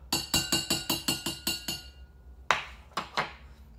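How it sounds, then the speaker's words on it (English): Metal spoon clinking against a coffee cup while stirring, a steady run of eight evenly spaced ringing taps, then a pause and a few quicker, sharper clinks, close and clear with no voices. "I'm going to stir my coffee here a little bit"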